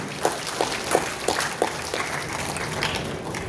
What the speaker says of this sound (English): Big round of applause for all of you.